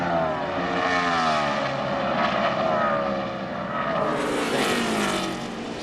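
NASCAR race cars roar past in a dense pack heading into turn 3 at the 2005 Checker Auto Parts 500, a loud, continuous engine drone with shifting pitch sweeps as the field passes.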